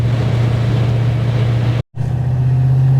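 A G-body car engine with a Holley Terminator X system runs at a steady idle, a loud continuous drone that cuts out for a brief moment before resuming.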